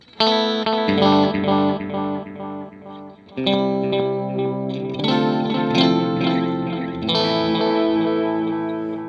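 Electric guitar chords played through a Strymon Timeline delay with the highs rolled off, echoing repeats and a darker, softened top end, sustained and fairly loud.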